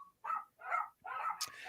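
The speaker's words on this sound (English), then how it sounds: "that is a dog barking" Three short barks or yips from a dog, evenly spaced and fairly near, with a brief faint whine before them and a quiet background.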